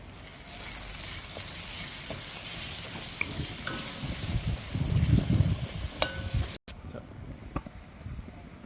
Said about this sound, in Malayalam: നമ്മുടെ സവാളയും തക്കാളിയും പച്ചമുളകും കൂടി നന്നായി വഴറ്റി വന്നിട്ടുണ്ട്